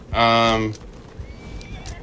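A horse in the survival video game ARK Ragnarok lets out a loud, close whinny lasting about half a second, followed by faint in-game ambience and soft footfalls.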